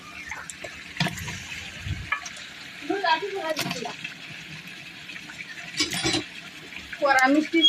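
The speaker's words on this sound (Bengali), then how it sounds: "এখন আমরা মুরগি দিয়ে কষাবো" Chicken sizzles in spice paste in a pot over a village clay stove, a soft frying hiss with stirring scrapes while people talk nearby.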